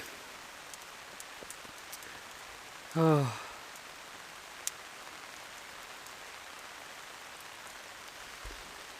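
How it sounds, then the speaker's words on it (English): Steady heavy rain hisses throughout, with a brief exclaimed word partway through over the constant downpour. "now it's pouring with rain"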